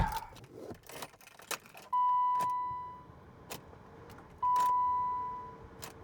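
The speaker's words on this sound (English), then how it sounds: "Unlocking my car." Keys jangle and the central locking clicks on a 1989 BMW E34, followed by two steady electronic beeps outdoors, each lasting about a second.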